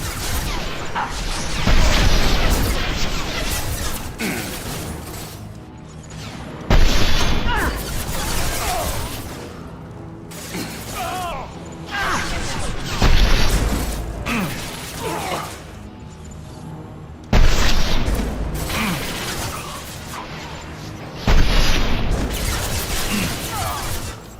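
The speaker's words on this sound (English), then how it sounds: "Firing a high-impact shot!" Heavy shots from a high-impact weapon in a video game blast out in a series of loud, punchy hits every few seconds, each one sharp at the start and fading under a constant din of mechanical clatter and game noise.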